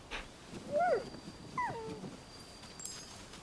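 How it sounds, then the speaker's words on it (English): Dog in the video game Rise of the Ronin making a couple of soft whimpering yips while being petted, close and fairly quiet over a faint game background. "I'm just gonna pet this dog first."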